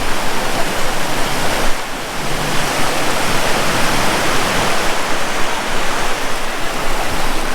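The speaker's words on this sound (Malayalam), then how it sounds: "അത്രയും സൗണ്ടിലാണ് വെള്ളത്തിൻ്റെ സൗണ്ട്." Thooval waterfall in Idukki roars steadily and loudly throughout, a dense, unbroken rush of falling water with no voices.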